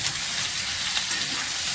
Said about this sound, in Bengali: এবার আমি এগুলো একসঙ্গে কষাবো